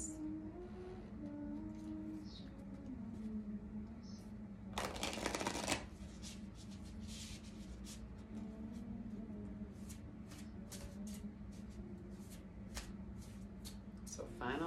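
Cards riffle-shuffled before another is drawn, a dense crackling burst of about a second near the middle over a steady low hum, with faint ticks around it.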